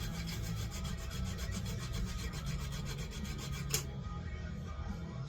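A small hand file rasps a burr off an air compressor part, a rapid, even run of close scraping strokes that stops abruptly near the end, leaving near silence.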